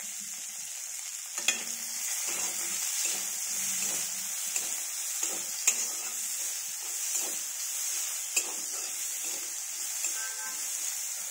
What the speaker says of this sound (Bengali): অল্প পরিমাণ তেল আর তাতে শুকনো লঙ্কা প্রথমে দিয়ে দিলাম এবং কোচানো পেঁয়াজ কুচিও অ্যাড করলাম